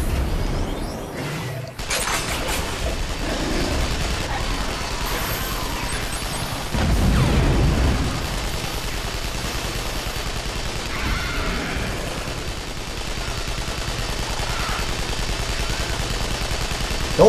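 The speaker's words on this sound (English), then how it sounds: "This thing is shooting purple fireballs at me" Bursts of enemy purple fireball shots and impacts in Hellgate: London, loud crackling blasts and booms repeating over a steady game background, with a heavy thump in the middle.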